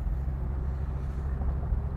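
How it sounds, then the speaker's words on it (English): A 1965 Ford Thunderbird on the move, a steady low engine and road rumble heard from inside the car, continuous and even with no talking. "All right, let's go for a ride in this T-Bird."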